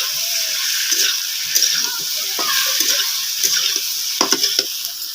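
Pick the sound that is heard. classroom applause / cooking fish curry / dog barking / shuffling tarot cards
cooking fish curry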